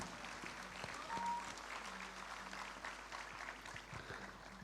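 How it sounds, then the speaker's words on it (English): Applause for the teachers at a school Platinum Jubilee program, a faint, distant and continuous patter of many hands clapping with a low hum underneath. "Let us give a huge round of applause for all our dedicated teachers"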